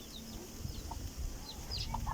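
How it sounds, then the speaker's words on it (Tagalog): Chickens clucking in a backyard among newly hatched chicks, with soft, close clucks and thin high peeps repeating over a steady low outdoor hum. "Ito yung mga papisa kong ng mga sisiw"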